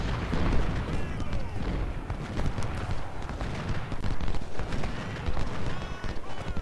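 24-pounder cannons boom across a Battle of Fredericksburg engagement in Ultimate General: Civil War, heavy dull thuds layered within a continuous dense roar of battle noise, hoofbeats and rumbling for the whole stretch.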